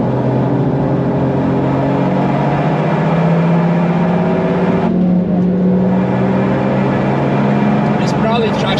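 Toyota GR Yaris with new modifications driven on a lap, its engine a steady loud drone under a cabin-wide rumble, with a brief dip and shift in tone midway as the car changes pace.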